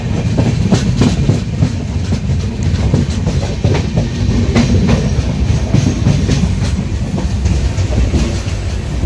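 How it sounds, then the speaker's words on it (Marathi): A Konkan Railway passenger train leaving Sawantwadi Road station under cloudy skies, loud and close with steady rumble and rhythmic clickety-clack of wheels over rail joints throughout, no voices. "हा सावंतवाडी रोड सावंतवाडीवरून निघाली ट्रेन."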